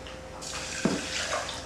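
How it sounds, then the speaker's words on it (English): Water poured from a cup onto dry quinoa in a pot gives a short, close splashing trickle that swells midway and then tapers, with no speech. "And I'm gonna add a cup of water."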